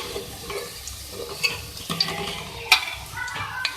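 Small pieces of beef frying in a pan, a close steady sizzle with scraping stirs and occasional sharp clinks of a utensil against the pan, no talk.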